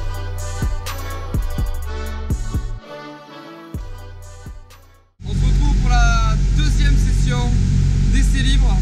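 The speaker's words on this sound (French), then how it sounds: "on a déjà commencé à faire chauffer les autos" Peugeot 308 Cup race cars warm up at the Barcelona circuit: a music-like passage gives way to a sudden, loud, dense roar of engines that holds to the end.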